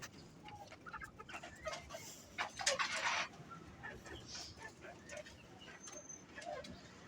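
Chickens cluck on a small farm where wooden nest boxes are set out for laying hens, with short, irregular calls coming up over steady background noise, one louder burst in the middle.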